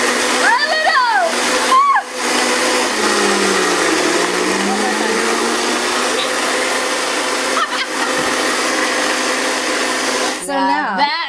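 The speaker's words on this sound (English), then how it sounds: "Oh, my blender. We're turning it on. Rev it up" A kitchen blender runs steadily and loudly while blending vegan chocolate pudding with agave, a continuous whirring drone with a brief dip partway through, and voices cheering and chattering over it.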